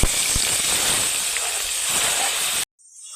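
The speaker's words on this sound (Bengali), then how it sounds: "এবার দিয়ে দেব পেঁয়াজ বাটা।" Onion paste goes into hot oil already tempered with five-spice and dried red chilli for a sarputi fish curry, giving a loud, continuous hiss that cuts off abruptly near the end.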